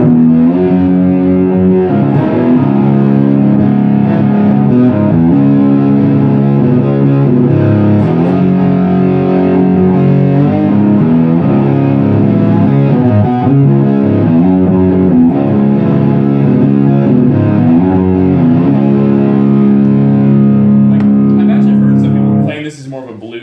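Thick, heavily overdriven electric guitar chords through an Orange Micro Dark high-gain amp with a Behringer vintage tube overdrive pedal ring out continuously at a loud, steady level, with sustained distorted harmonics, fading at the very end.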